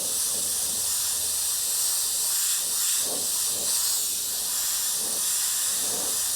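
Airbrush spraying glow paint onto the edges of a Grim Reaper robe, a steady, loud, close hiss with no pauses.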